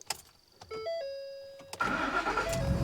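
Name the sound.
pickup truck engine starting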